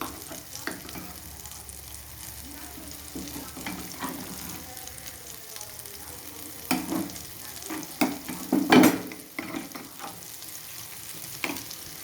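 Five spoons of ginger paste fry in hot oil with a steady sizzle while a spoon stirs and scrapes. The scraping comes in louder bursts, strongest toward the end.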